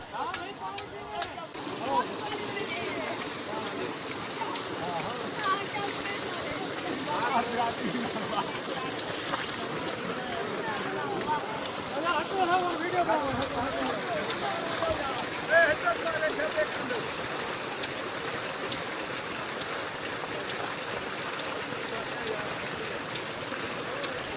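A small 4-inch solar tubewell pump in Pakistan gushes water in a steady, broad rushing flow that stays close and constant throughout, with no pauses.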